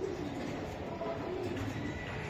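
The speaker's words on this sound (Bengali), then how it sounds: "এটা একটা নর কবুতর।" Male pigeon cooing softly at fairly low level over steady background hum, the low throaty murmur continuous through the short stretch.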